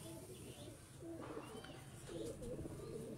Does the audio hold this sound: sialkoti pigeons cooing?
yes